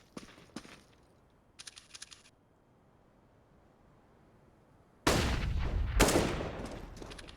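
Gunfire in the video game Counter-Strike on Dust 2, heard during a professional match: a few faint early shots, then a loud sustained burst of rapid fire and explosions from about five seconds on, with no talk.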